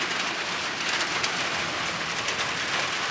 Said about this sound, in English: The sound of rain on a hot tin roof.